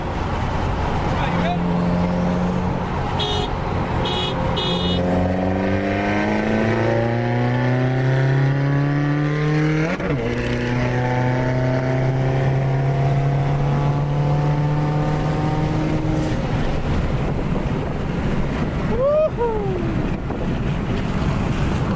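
A Subaru WRX with an aftermarket exhaust revs and accelerates through several gears, its exhaust note climbing and dropping with each shift, loud and close, with wind noise and brief talk.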